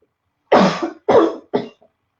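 Three harsh, close coughs in quick succession, each a loud burst that fades, the last one shorter, against silence.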